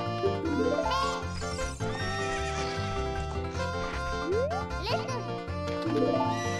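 Repeated whinnies from a horse in Zelda Ocarina of Time ring out loudly two or three times over busy in-game music.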